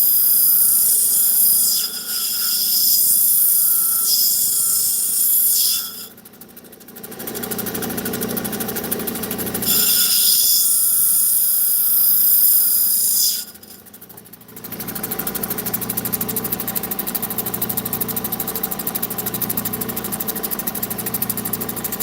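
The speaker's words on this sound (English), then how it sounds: "the grinder I bought, it was a harbor grinder that I got. It had the adjustable speed" A Harbor Freight variable-speed grinder runs steadily while cutting and shaping stone such as fire agate, opal or amethyst, its motor hum dropping briefly twice as the load changes, with no talk.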